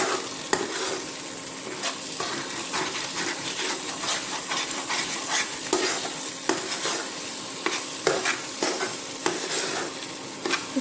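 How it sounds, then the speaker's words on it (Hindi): Grated carrot halwa with raisins and cashews being stirred and roasted in ghee in a pan, a steady soft sizzle under repeated scraping strokes of a spoon, with occasional metallic clinks against the pan, close and continuous. "इसे अच्छी तरह से 10 से 15 मिनट तक आप भूनें।"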